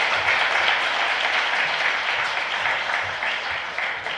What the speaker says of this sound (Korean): 우리 하나님께 감사의 박수 올려드리도록 하겠습니다.